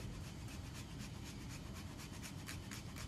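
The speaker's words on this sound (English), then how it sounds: "Now we take our Parmigiano Reggiano and we grate it, either using a microplane or a box grater." Parmigiano Reggiano cheese is rubbed against a microplane or box grater, making a continuous, close, dry rasping scrape with quick rhythmic strokes and no speech.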